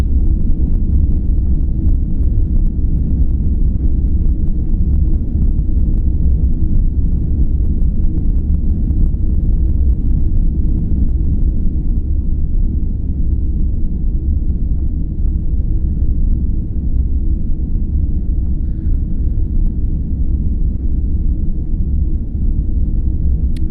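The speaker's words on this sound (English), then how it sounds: "here's the Enterprise. That ambient white noise." A steady, deep, rumbling hum of ambient background noise aboard the starship Enterprise, continuous and unchanging throughout, like engines droning inside a large vessel.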